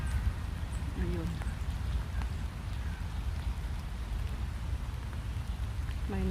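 Steady rain patters and hisses on surfaces outdoors, with brief voices and faint footsteps passing in the background.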